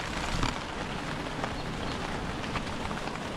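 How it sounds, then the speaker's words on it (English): Steady rain falls at a campsite, a dense, even hiss of drops on nearby surfaces that continues without a break, moderately loud and with no voices. "It is raining, but it's not pouring."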